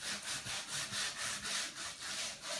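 Sandpaper rubs across a painted wooden Christmas sign over stencils in steady, rhythmic back-and-forth strokes, about a dozen close, scratchy passes with no talking.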